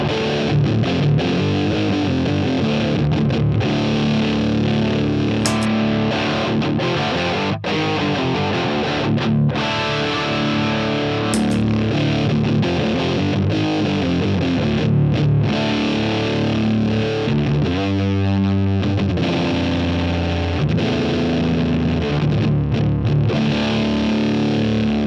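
Electric guitar played through a Sonicake Fazy Cream, an inexpensive Big Muff clone fuzz pedal, gives a thick, saturated, sustained fuzz tone with dense chords and a brief thinner passage near the end, loud and steady throughout with no talking.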